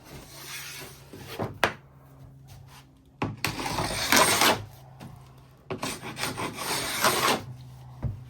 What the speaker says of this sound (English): after it comes out of the clamps, 24 hours later, I scraped it with a Harbor Freight scraper